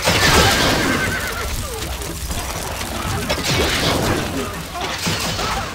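Horses neigh and whinny in Stronghold Crusader HD, several loud calls rising over a dense battle din of clashes and crashes, with a faint voice underneath.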